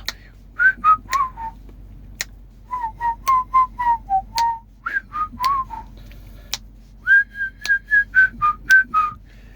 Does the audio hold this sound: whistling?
yes